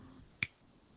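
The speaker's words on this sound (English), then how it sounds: "So I snap my fingers." One sharp finger snap, crisp and close, standing out on its own against a quiet room background during a podcast.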